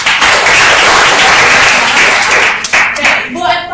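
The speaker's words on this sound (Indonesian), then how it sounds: "Semuanya tepuk tangan dulu." Sustained applause from a classroom of students clapping together, loud and close, with voices mixed in and tapering near the end.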